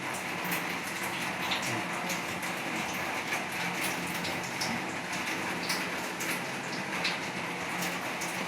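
Heavy rain pours down steadily, a dense wash of drops and splatter with no break, close and loud.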